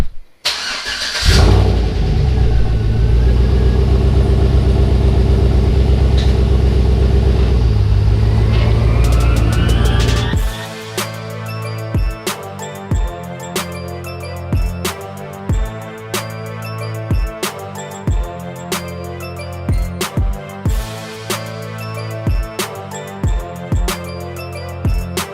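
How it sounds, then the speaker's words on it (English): A Chevrolet Silverado pickup with a Borla XR1 racing muffler cold-starts with a sharp crank and loud roaring flare, holds a steady high idle for several seconds, then drops into a rhythmic, loping idle with regular exhaust pulses, close and alone. "here's a nice cold start with the Borla XR1 racing muffler"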